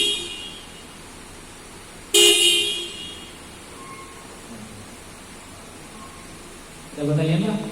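During lift-operator training, a vehicle horn is checked with a short, loud blast that fades quickly, then after a quiet pause a second, wavering honk sounds near the end, both close and clear over low background hiss.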